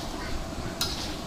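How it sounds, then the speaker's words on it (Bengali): Beef being kosha-fried in a kadai, with a steady rough sizzle and stirring rustle throughout, then a single sharp metallic scrape of the spatula near the end. "এখন একটু এই যে কড়াইয়ে ওই মাংসটা কষানো হচ্ছে"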